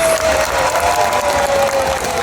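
An audience at a seal and sea lion show claps loudly and steadily in a dense, continuous wash of applause that fills the stands.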